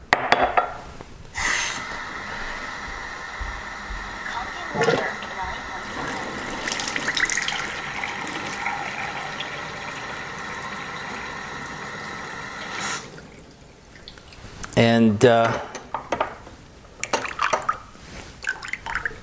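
Kangen water being poured into a glass or container, a steady liquid stream running for several seconds with a faint clink at the end, close by and fairly quiet, with brief talk before and after.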